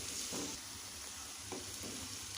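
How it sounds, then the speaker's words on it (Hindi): Garlic and ginger frying in a pan for a masala egg dish, a steady close sizzle with a few soft stirring scrapes and no talking. "हम इनको लहसुन अदरक को भी फ्राई कर लेंगे"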